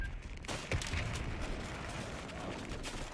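MG machine gun fire in Company of Heroes 3 gameplay, a sustained clatter of rapid shots with sharp cracks amid battlefield din, steady and moderately loud without talk.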